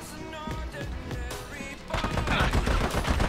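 Gunfire from an inaccurate gun in the video game Army of Two: dense, loud rapid shots that start abruptly partway through and continue steadily to the end, following a stretch of game music and effects.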